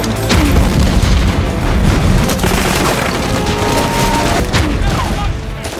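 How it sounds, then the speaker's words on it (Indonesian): Loud film action scene with an explosion set off by Czech police, followed by a fierce gunfight: dense booms and rapid volleys of gunshots fill the whole stretch with continuous heavy noise. "Saat Yorkie ingin menembak Sender, tiba-tiba terjadi sebuah ledakan yang ternyata dilakukan oleh para polisi Ceko."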